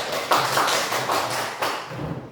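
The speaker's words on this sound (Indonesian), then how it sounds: "Oke, tepuk tangan." A class claps in a few loose, uneven bursts of hand claps, close and fairly loud, with no talking over them.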